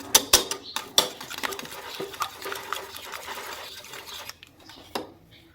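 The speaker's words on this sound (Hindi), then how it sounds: "तो चलें अब हम इसको मिक्स करते हैं। अच्छे से इसको मिक्स करेंगे।" A spoon stirs pancake batter with vanilla essence in a bowl, producing soft scraping and clinking strokes with a few sharp taps against the rim, close and fairly quiet.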